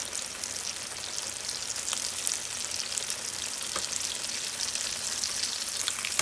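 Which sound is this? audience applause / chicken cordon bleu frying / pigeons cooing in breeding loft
chicken cordon bleu frying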